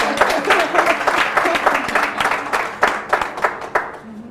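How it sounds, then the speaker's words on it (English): Summit audience bursting into applause, a lively patter of clapping with uneven rhythmic peaks that thins out toward the end. "I think that deserves a round of applause."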